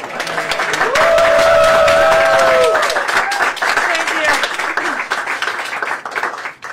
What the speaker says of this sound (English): how about a round of, of applause for her?